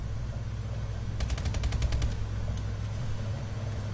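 A light machine gun fires in a rapid burst of about ten evenly spaced shots in Advanced Warfare, followed by a single fainter shot, over a low steady engine-like rumble.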